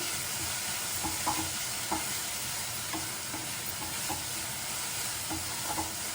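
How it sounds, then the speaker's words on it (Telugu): Soaked moong dal being stirred in a hot pan with fried ginger and green chilli, a continuous close sizzle broken by repeated light scraping strokes of the spoon at an even rhythm, no voices. "పెసరపప్పు వేసాక కూడా కొంచెం కలుపుకొని"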